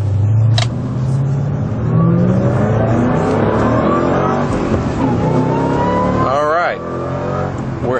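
A Ford Mustang Roush 427R engine roars and revs up through rising gears on the Laguna Seca track, close and continuous, with a brief tire squeal near the end.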